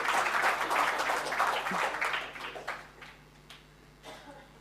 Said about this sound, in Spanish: Otro aplauso también para el número 29